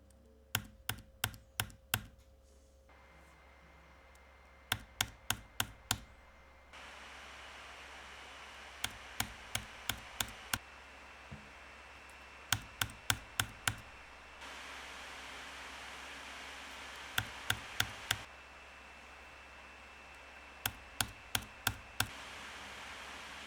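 A Razer Blade 16 (2024) laptop's cooling fans give a steady broadband hiss whose level steps up and down across several settings, with bursts of sharp clicks at intervals. No one speaks.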